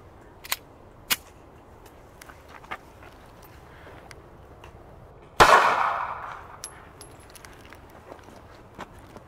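.380 ACP full metal jacket round fired at close range into ballistic gel: one sharp, loud shot with a decaying tail, set among a few faint clicks and handling taps before and after.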